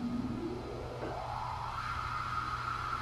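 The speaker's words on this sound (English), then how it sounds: "Nothing really emulates a swooshing air sound better than noise." Flat white noise from a modular synth sweeping through a Buchla 291 clone bandpass filter, a soft airy swooshing whose resonant pitch glides upward and then settles, heard alone and fairly quiet.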